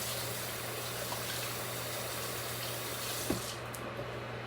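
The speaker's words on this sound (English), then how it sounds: "I'm gonna wash my hands." Tap water runs in a steady, faint, hissing stream from a kitchen faucet while hands are washed. A low hum sits under it and there is no talking.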